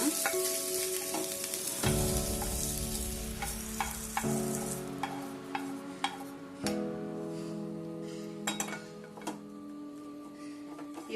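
Something sizzles and fries steadily in a pan for a hyacinth bean masala curry, with a spoon or spatula scraping and clinking against the pan at intervals. The cooking sounds are close and continuous, and nobody speaks.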